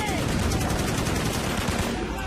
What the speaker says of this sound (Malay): Diikuti tembakan oleh oknum PKM ke arah Prebet Rosli dan disusuli tembakan anggota PKM lain